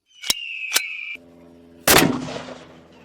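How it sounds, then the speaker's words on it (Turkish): A Desert Eagle pistol fires one loud, sharp shot with a decaying boom. It follows a couple of short tonal blips, and no one speaks. "Şimdi Desert Eagle ile devam ediyoruz."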